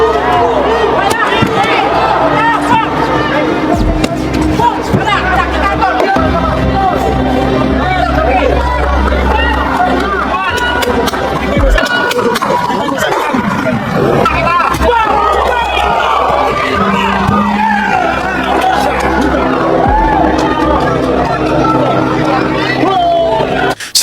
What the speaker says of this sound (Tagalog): mas lumakas ang sigawan ng crowd